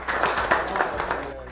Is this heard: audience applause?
yes